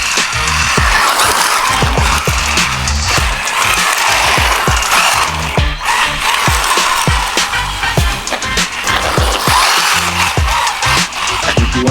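An MJX Hyper Go 14211 RC car races fast with a whining electric motor, tires scrabbling and gritty crunching over rough ground in quick repeated bursts, close and loud throughout.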